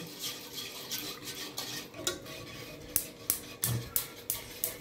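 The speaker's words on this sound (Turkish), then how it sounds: "Muhallebimizi karıştırıyoruz" Milk pudding being stirred in a large pot for kadayif dessert, a utensil scraping and clinking against the metal in a run of sharp, fairly close strokes that grow more rhythmic toward the end, with no talking.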